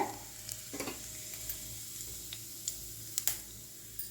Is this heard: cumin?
yes